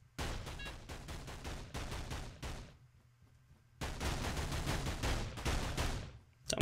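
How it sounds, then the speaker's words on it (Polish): Rapid bursts of automatic gunfire in the stealth game Of Guards and Thieves, two loud volleys of fast repeated shots separated by a quiet gap, with no talk. "Tam ktoś do czegoś strzela, nie wiadomo do czego"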